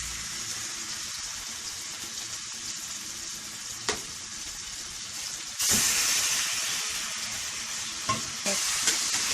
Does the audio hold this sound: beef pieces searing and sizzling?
yes